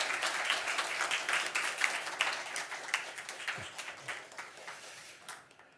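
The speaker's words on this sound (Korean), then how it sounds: "큰 박수 주십시오." A church congregation gives warm applause, a fairly faint, dense patter of many hands clapping that gradually thins toward the end.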